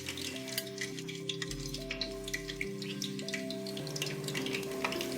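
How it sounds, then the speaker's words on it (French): Sliced large potatoes fry in hot oil over medium heat, a faint steady crackle and sizzle beneath a background of sustained musical tones, with no talk. "Faire frire 3 grosses pommes de terre coupées en tranches."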